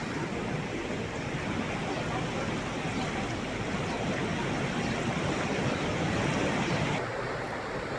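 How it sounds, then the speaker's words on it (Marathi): Flooded Megha River in Amravati during heavy monsoon rain, a dense unbroken roar of fast-flowing floodwater, loud and close, with no voices over it. "आपण हे दृश्य पाहतोय, अमरावतीतल्या मेघा नदीला पूर आलाय।"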